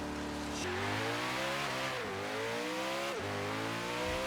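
A modded Koenigsegg One:1 in Forza Horizon 3 roars as its engine revs climb and drop with gear shifts, several quick rising pulls in a loud, close run with no talking.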